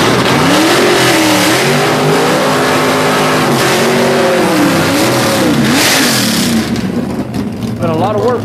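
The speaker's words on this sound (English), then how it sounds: "Eddie Willis with that one-way technology small block under that 67 Camaro" Small-block 1967 Camaro gasser at a drag race, loud engine revving and accelerating with rising and falling pitch sweeps, heard up close under a commentator's voice.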